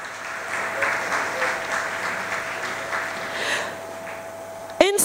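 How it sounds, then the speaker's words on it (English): Audience applause at a graduation ceremony, a steady, moderate wash of clapping throughout with a faint sustained tone underneath and a brief sharp bump near the end. "Let's give them a round of applause."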